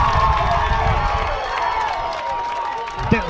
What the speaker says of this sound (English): There's a free kick and the crowd loves it.